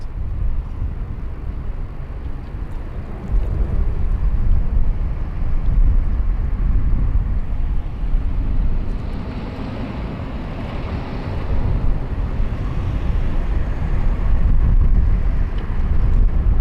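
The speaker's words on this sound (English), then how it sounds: "Dash 8 Q400 on final for runway 34 left" A Dash 8 Q400 turboprop airliner on final approach to runway 34 left at Sydney Airport gives a loud, steady low rumble and roar that swells and fades slightly, heavy with wind buffeting, with no talk.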